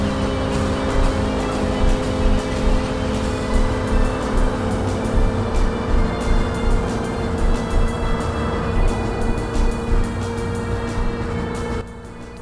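A race car boosts in the video game Tokyo Xtreme Racer 3, its engine holding a loud, steady drone with a faint rhythmic pulsing throughout, then dropping off briefly at the very end.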